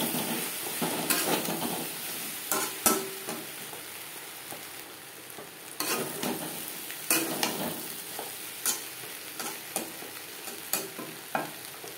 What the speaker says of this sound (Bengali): আলুর সাথে ভেন্ডি 3-4 মিনিট নাড়াচাড়া করে নেওয়ার পর দিয়ে দেবো জল।